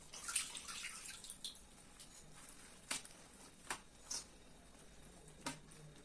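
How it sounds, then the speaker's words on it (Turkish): Faint water drips and light splashes as a sheet of store-bought phyllo (yufka) pastry is dipped in water and left to drain for a baked börek, a few soft separate drops standing out over a quiet background. "Yufkacıdan aldım yufkayı şöyle suya batırıyorum"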